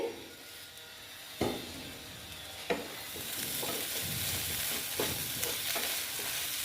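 Potatoes frying in fish-fat oil in a pan for a Bengali macher tel chorchori, with a steady sizzle broken by several sharp scrapes and knocks of a spatula stirring, close by and without talk.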